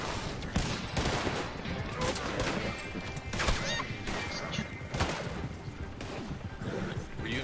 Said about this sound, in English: Oh, they're fucking shooting me?